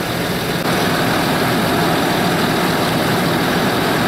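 A Land Rover Discovery 2.7 litre diesel engine idling just after being jump started from a flat battery, a steady, loud, close rumbling drone with no speech.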